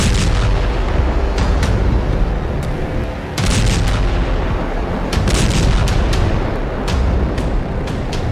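Israeli tank fire in southern Lebanon: loud, dense barrage of booms and sharp cracks recurring throughout, with a brief dip before the heavy firing resumes, no voices.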